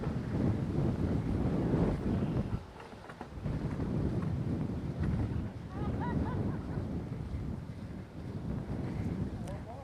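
Wind buffets the microphone on an outdoor golf course, a steady broadband rumble that dips briefly partway through before surging back, with no other clear sounds.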